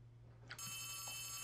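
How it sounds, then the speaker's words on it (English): In a horror video game, a telephone bell suddenly starts ringing after a quiet hum, a bright, insistent metallic trill that continues steadily and fairly loud to the end. "get the hell up, answer the phone."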